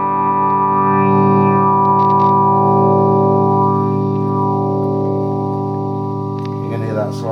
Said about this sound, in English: I just strum the open guitar as I turn up the Spectrum control here.